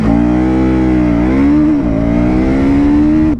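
A KTM Duke 200 or 250 motorcycle in track mode launching from a standstill: a loud, close, continuous engine drone that climbs in pitch, dips briefly at a gear change around the middle, then rises again and cuts off sharply at the end.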